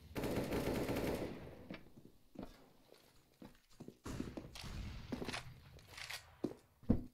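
Gunfire in a Counter-Strike: Global Offensive match comes as scattered sharp shots and short bursts, some louder and nearer, others distant, with quieter thuds and footsteps between them.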